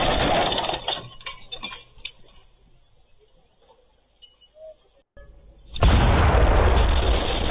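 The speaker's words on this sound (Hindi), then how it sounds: "सीसीटीवी में कैद धमाके का वीडियो।" A loud, sudden Hamas rocket blast in Tel Aviv erupts after quieter rustling and muffled noise, filling the audio with a sustained roaring rumble, recorded on a nearby security camera.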